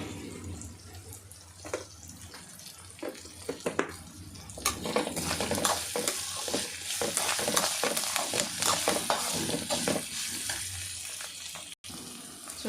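Pre-fried okra frying with curry leaves and salt in a pan, a sizzling hiss that builds and stays steady while a utensil stirs and scrapes in frequent bursts; close and moderately loud, with no talking.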